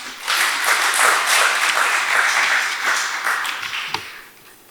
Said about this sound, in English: I believe this deserves a round of applause.